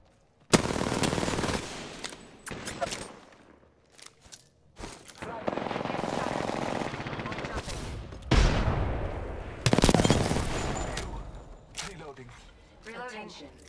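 Bursts of machine gun fire from a combat video game crackle in several loud volleys separated by short pauses, with voiced callouts from the game heard between the shots.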